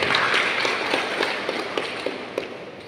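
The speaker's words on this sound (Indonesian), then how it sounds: "Kita tepuk tangan dulu buat kita semua." A workshop audience at a village boundary technical training session applauds steadily, a dense wash of many hands clapping at moderate loudness throughout.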